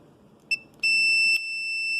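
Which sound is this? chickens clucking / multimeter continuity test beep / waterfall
multimeter continuity test beep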